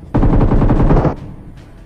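AKM rifle fire in PUBG Mobile: a rapid automatic burst of about a dozen loud, close shots in steady rhythm, cut off after a second, followed by a couple of faint distant reports.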